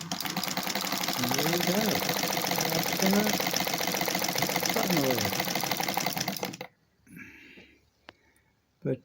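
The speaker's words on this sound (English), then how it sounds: "hopefully now she will work when I put my foot on the pedal." An old Singer sewing machine fitted with a new motor runs steadily and loudly for several seconds with a dense mechanical chatter, then stops abruptly. A brief spoken remark follows in the quiet.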